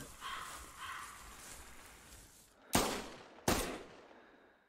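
Two loud, sharp hunting rifle shots in theHunter Classic, fired while stalking a pheasant in a forest, spaced under a second apart and ringing out over quiet rustling woodland ambience.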